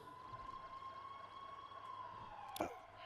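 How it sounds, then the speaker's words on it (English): A video game roleplay on PurpleRP, with a faint, distant wailing siren holding a steady tone throughout, broken by a sharp click or knock near the end. "Of course, the sirens turn up now."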